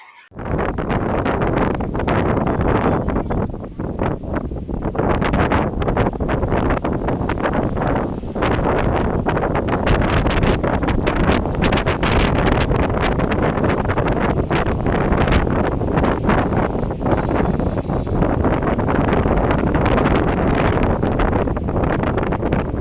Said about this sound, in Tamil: வடக்கு பக்கத்துல இருந்தும் தெற்கு பக்கத்துல இருந்தும் மாறி மாறி காத்து அடிச்சுக்கிட்டே இருக்கும்